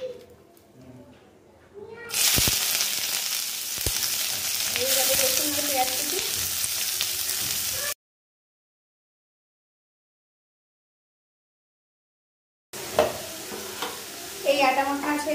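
Chopped onion and garlic fry in a pan with a loud, dense hiss of oil lasting several seconds, then a silent gap; voices and cooing birds are heard before and after.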